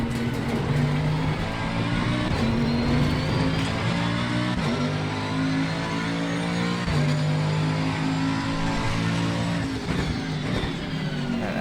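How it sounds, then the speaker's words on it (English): Aston Martin GT3 race car engine in Assetto Corsa Competizione at the Hungaroring, a loud sustained roar climbing through the revs as it pulls hard out of a corner, with other engines droning underneath. "Aston just rips off of that last turn"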